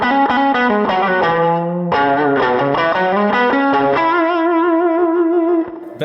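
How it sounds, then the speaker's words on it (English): A Stratocaster electric guitar on its middle pickup setting plays a chordal riff through distorted effects, loud and sustained with shifting chords, then a final chord that fades out. "Let's switch to the mid setting."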